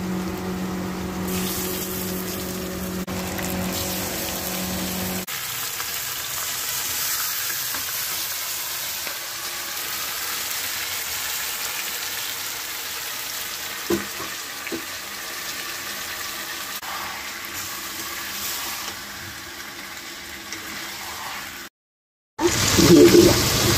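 Marinated potatoes fry in oil with browned onion and bay leaf for aloo dum, a steady close sizzle with stirring scrapes, briefly cut off near the end before resuming louder.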